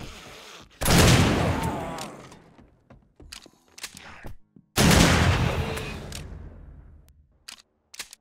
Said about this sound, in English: Okay, if I can just shoot him from over here.